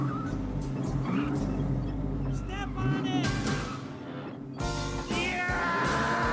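A 1980s Fox-body Ford Mustang GT 5.0 V8 red convertible rumbles low and steady in a movie scene, partly masked by music and voices talking over it.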